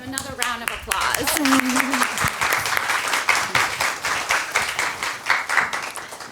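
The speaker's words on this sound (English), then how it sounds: "Another round of applause." An audience at a jewelry-week panel talk breaks into a burst of clapping that swells into steady, dense applause and holds throughout, with a voice briefly audible near the start.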